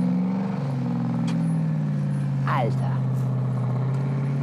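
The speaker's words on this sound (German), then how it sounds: "Das klingt mal nach bösem V8." A deep V8 engine of an off-road vehicle rumbles steadily throughout, a low throaty idle, while someone speaks briefly over it.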